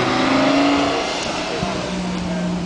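Supercar engine revving at the Goodwood Festival of Speed in 2009: a loud, close engine roar with shifting pitch under crowd noise, while someone speaks nearby.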